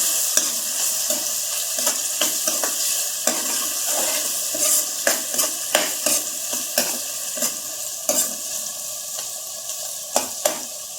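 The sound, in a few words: onions frying and being stirred in a pan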